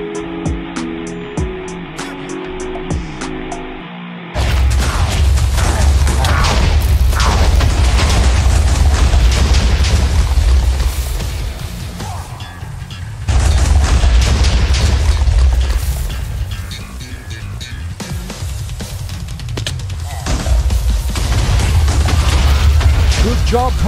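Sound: bombs dropping and exploding

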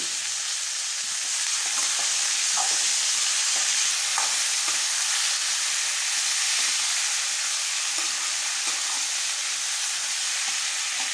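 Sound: sliced brinjal sautéing in a pan

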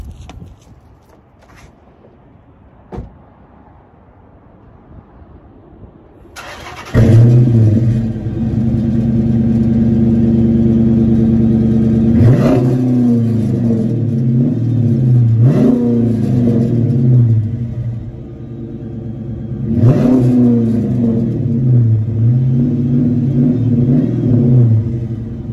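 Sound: car engine revving through Flowmaster exhaust

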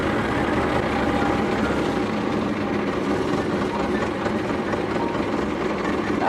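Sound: tractor engine running

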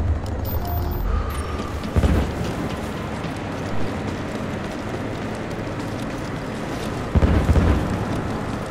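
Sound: grenade explosion in video game Ghost Recon Future Soldier

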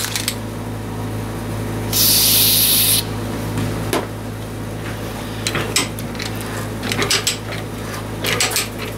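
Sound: spraying Fluid Film lubricant

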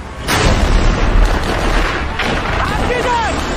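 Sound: artillery fire explosion

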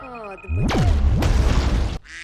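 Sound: explosion in a film

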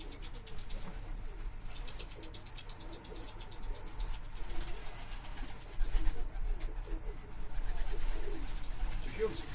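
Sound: pigeons

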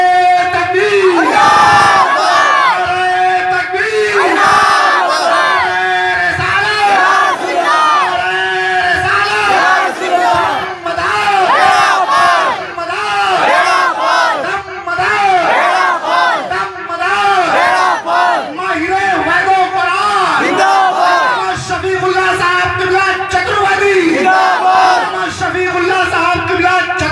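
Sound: crowd shouting religious slogans (takbir) together

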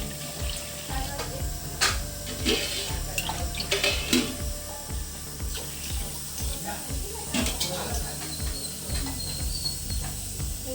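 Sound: pouring water onto tamarind

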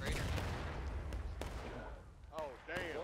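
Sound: artillery and gunfire in video game War of Rights

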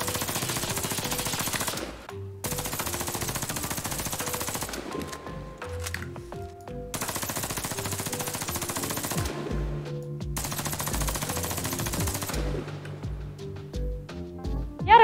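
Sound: submachine gun firing in video game

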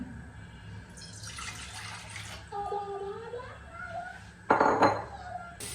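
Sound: water poured into a pan on stove

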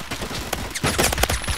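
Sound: Tech 9 gun hip firing in Phantom Forces video game

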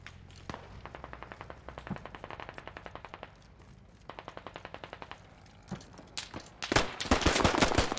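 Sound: gunfire in the video game Squad

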